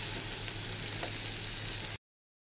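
Onion and garlic fry in hot oil with a steady, close, hissing sizzle that holds evenly for about two seconds before cutting abruptly to silence.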